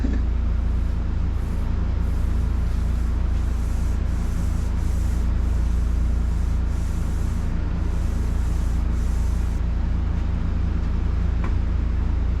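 Sanding of the primer coat on the bedsides of a 1941 Chevy truck restomod, a steady unbroken abrasive rubbing over a low rumble that holds the same loudness throughout, close and with no talk.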